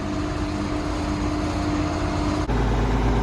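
An old 7020 tractor's engine runs close and loud with a steady, throbbing low rumble, holding an even idle before a brief dip and a shift to a deeper tone near the end.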